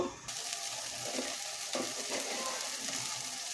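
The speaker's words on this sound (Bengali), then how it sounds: "তো এভাবেই আমি গ্যাসের ফ্লেমটা বাড়িয়ে রেখে এটা একটু কষিয়ে নেব।" Mashed ridge gourd cooks down over a high gas flame, sputtering and sizzling steadily at close range, with soft stirring scrapes.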